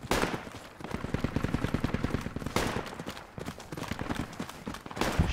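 Rapid bursts of machine gun fire in the military shooter Project Reality, a long steady run of close, loud shots with brief pauses, then further volleys.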